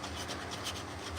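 A sanding block rubs steadily against a carved wooden spoon in a workshop, giving a continuous close, gritty scraping with slight rhythmic strokes.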